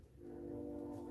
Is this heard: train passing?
yes